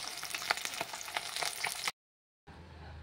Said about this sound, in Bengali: আমি মাছগুলো ভেজে নেব এক এক করে